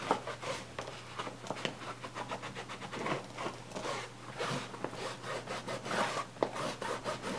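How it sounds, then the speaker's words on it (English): A rag scrubs a leather designer handbag in quick rhythmic back-and-forth strokes, a close, dry rubbing sound repeating steadily throughout. "just going to take that rag and just start scrubbing the bag"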